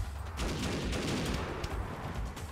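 Rapid bursts of gunfire-like explosions from the video game Animal Revolt Battle Simulator, loud and continuous, packed densely together with no talking.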